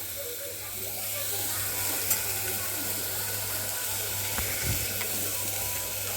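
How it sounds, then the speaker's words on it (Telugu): Tomatoes, turmeric and sesame sizzling and frying in a pan for an egg curry, a steady broad hiss that runs continuously throughout with faint stirring beneath. "టమాటా, పసుపు, నూగు లైట్గా వేసి బాగా వేయించుకుంటున్నా"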